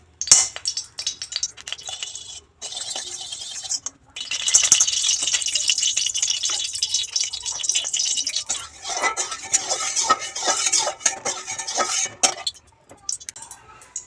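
A metal spoon stirs rice in ghee and a little refined oil inside a cooking pot for pulao, giving busy scraping and clinking against the pot that runs nearly continuously with short pauses, close and fairly loud.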